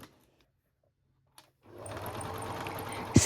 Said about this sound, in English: Stitch the cupcake pockets to the outer along the bottom edge.